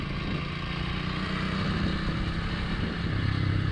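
A Kawasaki motorcycle being ridden across open puszta grassland, its engine a continuous, steady drone blended with wind rush, with no pauses or gear changes standing out.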